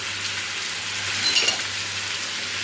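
Onion and pepper fry in a pan at home, a steady, close sizzling hiss that holds at an even level throughout, with a slight crackle swelling briefly midway.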